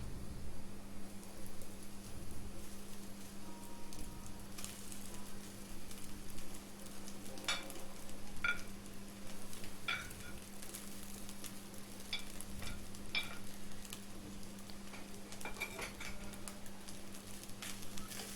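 Cooked rice seasoned with black pepper and turmeric sizzles quietly in a pan as it is stirred, a soft steady hiss with occasional sharp scrapes and taps of the spoon and a low hum underneath.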